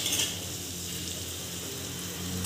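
Onion and green chili fry in hot oil with a little turmeric added. The sizzle is close and steady, with a faint stir of a utensil, and no one speaks.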